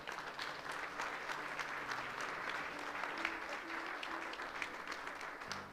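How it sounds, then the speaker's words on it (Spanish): A church congregation claps for the Lord on a Sunday morning, a full, sustained round of hand claps with a few sharper individual claps standing out, moderately loud and unbroken by talk. "¿Habrá algún agradecido que le quiera dar un aplauso al Señor en esta mañana?"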